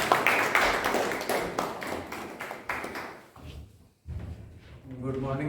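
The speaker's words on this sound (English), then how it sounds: "Give him a round of applause." Scattered applause from a Toastmasters meeting audience greeting the Toastmaster, several seconds of uneven claps and taps that thin out before a voice begins speaking.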